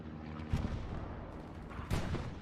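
Artillery shelling in the video game Hell Let Loose, with two dull booms standing out over a constant rumbling battlefield din.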